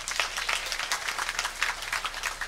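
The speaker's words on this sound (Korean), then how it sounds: "우리 하나님께 영광의 박수를 드립니다" Congregation applauding during a church Sunday worship service, a steady wash of many hands clapping together at moderate distance, sustained without a break for a couple of seconds.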